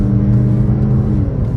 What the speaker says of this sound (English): it's just really bizarre to hear this noise coming out of a Challenger